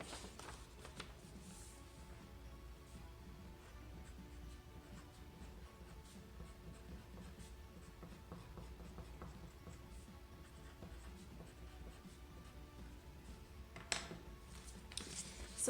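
Pencil or pen scratches on paper as a phrase is written out, a faint, continuous scratchy rustle close by, with a single sharper tap near the end.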